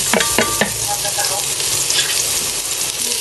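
Ginger, garlic and onion sautéing in a pan for chicken tinola give a loud, steady sizzle close up, with a few quick scraping stirs near the start.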